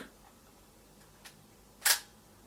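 A 110 format film camera's shutter is pressed, giving one sharp mechanical click, preceded by a fainter small click from the wind-on, all close and alone in a quiet room.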